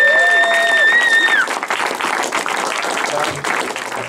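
An audience at a stand-up comedy show cheers and applauds as comedian Akiva Solemani is brought on, a loud swell of clapping and whoops that stays up and then settles, with a voice briefly heard at the start.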